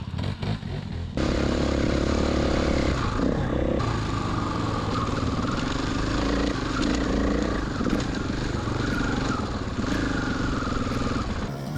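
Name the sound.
KTM 300 XCW dirt bike riding around the pit area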